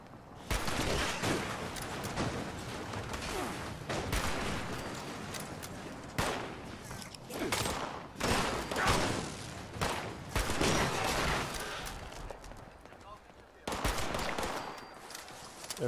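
Bursts of rapid gunfire from the video game Fallout 76 rattle in repeated volleys, loud and close, with short gaps between them and people talking over the shooting.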